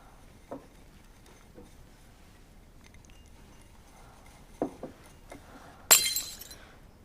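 A drinking glass is dropped and shatters in a period-drama household scene. A single sharp crash comes after faint clinks and taps in an otherwise quiet room.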